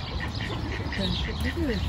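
A duck quacks in a short burst of nasal calls, close and fairly loud, with a person talking over it.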